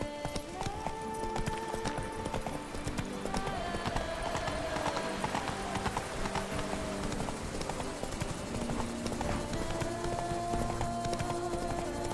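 Hooves of the horse Roach clip-clopping at a steady trot in The Witcher 3 video game, continuous and fairly loud under game music, with character voices talking over it.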